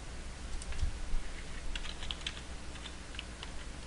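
Brief burst of typing on a computer keyboard while setting up a second user account in hMailServer, a handful of light, close keystrokes over a faint background hiss.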